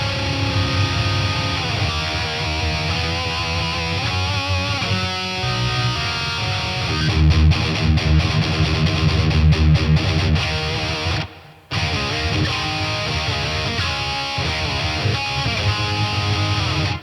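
Heavily distorted electric guitar through a BOSS Katana MK2 amp on a preset with boosted bass and noise suppressor, playing dense riffs with chugging low notes; loud and continuous, with a brief cut near the end.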